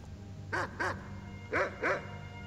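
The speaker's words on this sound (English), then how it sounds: "Hey, look, can we buy a dog?" A dog barks in Skyrim: four short, close barks in two quick pairs, each pair a rapid double bark, over a quiet game background hum with no talking.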